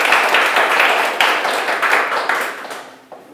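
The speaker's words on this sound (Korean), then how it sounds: "큰 박수 부탁드립니다." Applause from an audience at a youth program's year-end report event, loud, dense clapping close by that holds steady and then thins and fades away over about three seconds.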